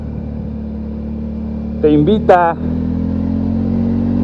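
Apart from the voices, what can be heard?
Italika Vort-X 300R motorcycle engine during test drive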